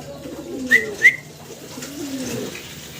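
A pair of white racer pigeons cooing in a pigeon-selling setting, a low continuous throaty coo with two brief sharp whistle-like chirps early on, close and moderately loud.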